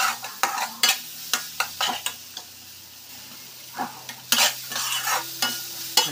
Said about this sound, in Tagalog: Pagsabay na natin yung butter sa mani. Yan, bali lulutuin natin yung mani dyan sa butter.